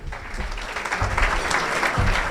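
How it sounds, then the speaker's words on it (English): Steady applause from a crowd at a school hall of fame ceremony, clapping continuously and fairly loud throughout, with no speech over it. "Yes, round of applause."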